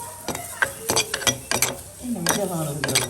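Onion, green chilli and fennel are dry-roasted in a pan without oil, with irregular metallic clinks and scrapes of stirring against the pan, close by, and some talking in between.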